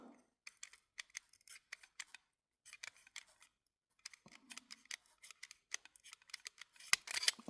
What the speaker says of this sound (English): So first I'm going to cut this off.